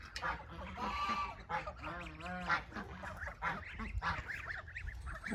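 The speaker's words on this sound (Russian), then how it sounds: "Такие гуси обрадовались." Several geese honking together, loud overlapping nasal calls in quick irregular bursts, close by, with no talking.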